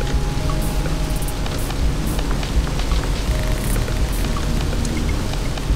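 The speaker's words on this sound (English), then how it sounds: "now it's just been raining for like literally a couple of minutes and we've got loads of leaks" Steady, heavy rain drumming on the roof of a leaking camper van, a dense continuous hiss with scattered sharper drop impacts, close and loud with no voices.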